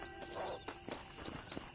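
Horse hooves clip-clopping at a walk in Red Dead Redemption on PS5, a quiet, fairly steady run of hoofbeats with faint ambient background.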